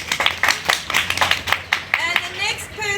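An audience at a school assembly claps steadily for a few seconds, bright sharp hand claps close by, tapering off toward the end.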